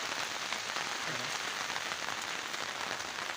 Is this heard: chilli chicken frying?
no